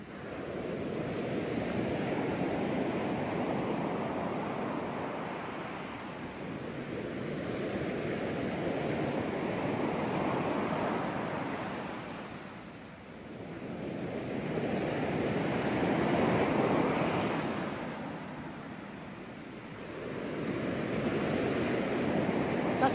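A recorded clip of ocean waves on a shore plays alone with steady surf and slow swells that rise and fall every few seconds, underlain by a soft wind-like hiss.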